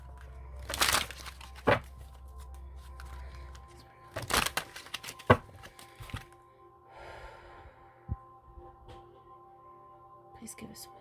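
Oversized tarot cards being shuffled by hand, giving scattered crinkly rustles and a few sharper card snaps, with a soft voice speaking quietly between them.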